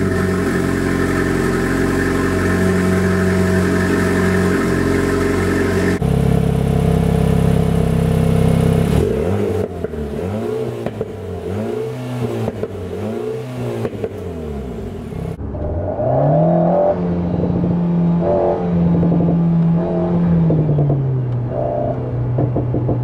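A 2023 Alpine A110 GT sports car's 1.8-litre 300 hp engine revs repeatedly while stationary, rising and falling in pitch with a throaty active exhaust, switching between idle rumble and sharp throttle blips.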